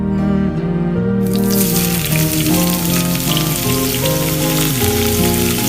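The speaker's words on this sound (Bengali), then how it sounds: "এই ভাজাটা এত স্যাটিসফাইং, বুন্দিয়াগুলো ভুস করে ভেসে উঠবে আর বলের মতো ফুলে পড়বে।" Drops of bundiya batter fry in hot oil, making a dense rain-like sizzle that starts after about a second and runs on steadily beneath loud background music.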